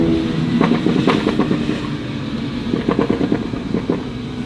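A 2022 or 2019 Mini JCW revs its engine, and the exhaust crackles with quick bursts of pops as the revs fall, close and fairly loud over a steady engine drone.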